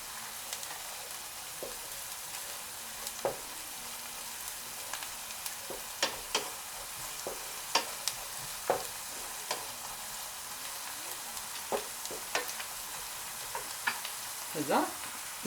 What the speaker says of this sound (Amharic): እንደምታዩት ሽንኩርቴ ተጠብሷል በደንብ። ስለዚህ በርበሬ ትንሽ ለቀለም ያህል እናደርጋለን።